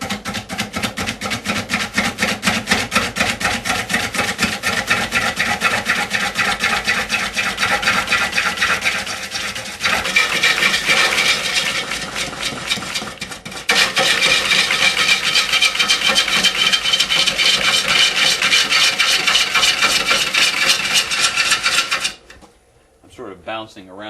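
Walnut spinning on a wood lathe under aggressive roughing cuts gives a loud, continuous rasping scrape with a steady rhythmic chatter, briefly shifting in tone midway and stopping abruptly near the end.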